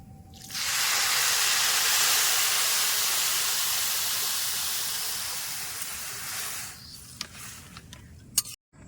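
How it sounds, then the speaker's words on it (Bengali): Water hits a hot pan of rice and lentils that have been fried for khichuri. A loud, close hiss of steam surges, holds for several seconds and then fades, followed by a few light clinks. "সব কিছু ডালে চালে আমার ভালো করে কষানো হয়ে গেছে তার আমি জল দিয়ে দেবো"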